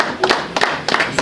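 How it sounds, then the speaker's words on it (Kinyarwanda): A small audience at a Rwandan children's presentation ceremony claps briefly, several separate hand claps sounding close and uneven over a little more than a second. "Bakumbera amashyi"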